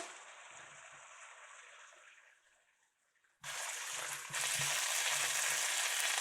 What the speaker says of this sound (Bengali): এখন আমি ম্যারিনেট করা মাছটা দিয়ে দিচ্ছি।